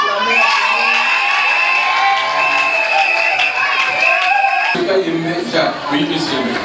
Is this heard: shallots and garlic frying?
no